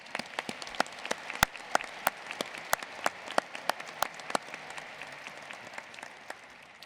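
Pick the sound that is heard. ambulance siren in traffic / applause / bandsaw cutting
applause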